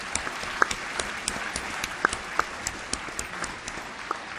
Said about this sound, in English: give a round of applause for the All-CIF softball first team